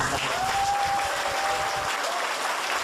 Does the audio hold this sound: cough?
no